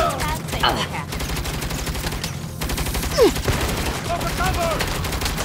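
Rapid bursts of gunfire in the 2022 video game Saints Row, a dense rattle of shots that runs through the whole stretch, mixed with game voices and a loud shot near the end.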